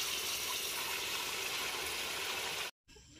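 Water pours steadily into a cooking pot for a village-style chicken korma in Dadyal, Azad Kashmir, a continuous close splashing stream that stops abruptly near the end, leaving quieter room sound.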